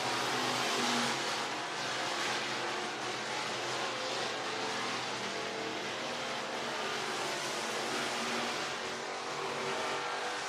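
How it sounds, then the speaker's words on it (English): Race car engines roar around the track at Whynot Motorsports Park in Meridian, Mississippi, a loud continuous drone of cars under racing power, with no talk heard. "David Minor giving him a chance to race his race car."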